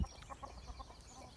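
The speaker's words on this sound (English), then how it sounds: "Hugo, Mr. Angry, the cockerel is still angry." A cockerel on the Isles of Scilly gives short, faint clucking calls in a loose rhythm over outdoor background noise, with no full crow clearly standing out.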